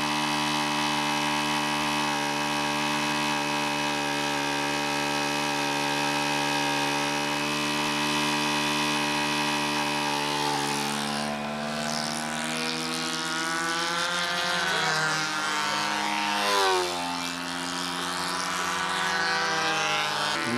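A Windy U Master model aircraft engine on a B-25 running steadily with a buzzing, harmonic-rich whine, holding constant before wavering in pitch as the throttle is opened and closed, loud and close.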